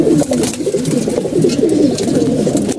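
Several pigeons in a loft, including black-patterned birds being readied for pairing, coo continuously in a dense overlapping chorus, close and steady throughout with no talking.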